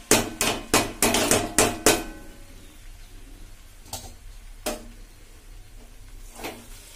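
Peas are stirred into a finished spice mix in a pan while cooking ghugni with chicken mince. A quick run of sharp clacks and knocks gives way to a few sparse taps, close but fairly quiet, with no talking.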